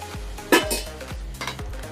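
Sugar syrup heating in a pot on a gas stove, stirred with a utensil in a few quick scraping strokes over a low steady hiss, close by with no talk.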